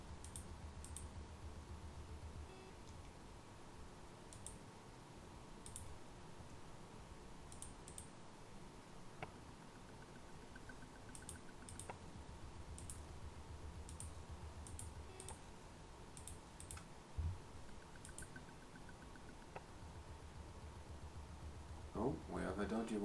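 Faint computer mouse clicks tick sparsely and irregularly while working in Inventor software, set under a constant low room hum and background noise with occasional talk.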